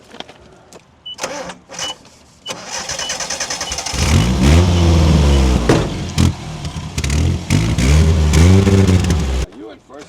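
A Nissan truck loaded with dirt revs its engine hard while driving, a loud, strained mid-pitched roar rising and falling after a few knocks and shuffles, with people talking over it.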